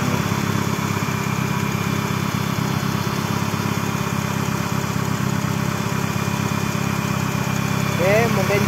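A used Honda Accord Maestro with a fuel-injected engine idles steadily under the open hood, a constant close-up rumble with no revving and a brief faint squeak near the end.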